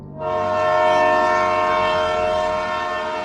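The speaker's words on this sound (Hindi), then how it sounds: "बहुत ही ज़्यादा तेज़ एक ट्रेन की सीटी सुनाई दी।" A loud, piercing train whistle blares continuously, rising quickly and holding a steady harmonic tone for several seconds.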